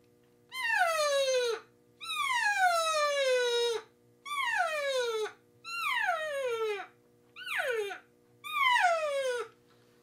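Six high, descending nasal mews blown on a diaphragm call, a person imitating an elk cow, each lasting about a second with short pauses between, close and clear against a faint background hum.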